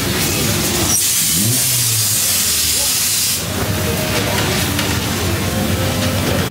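GT4 race cars roar off the line at the Nogaro circuit as a race begins, a loud dense blur of engines and rushing hiss with one car's rising whine, heard from nearby at trackside.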